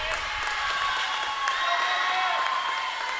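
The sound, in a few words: teammates cheering at a swim meet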